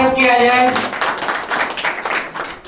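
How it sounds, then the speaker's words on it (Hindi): Audience applause welcoming a guest at a quiz contest event, a dense burst of many hands clapping that holds steady, with a voice speaking near the start. "मैं पवन जी सर से जोरदार तालियों से स्वागत किया जाए।"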